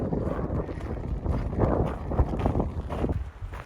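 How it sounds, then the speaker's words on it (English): Strong wind blowing through a mountain valley, buffeting gusts rumbling against the microphone in uneven surges, loud and close with no other clear sounds. "it is windy AF"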